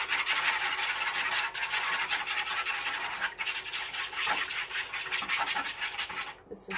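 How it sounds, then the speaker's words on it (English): A small retired Pampered Chef sauce whisk beats half a cup of milk in a bowl, giving a steady, close, rapid scratchy rattle of wire against the bowl with a brief pause midway. "we're going to add our half a cup of milk, and we're just going to whisk that up"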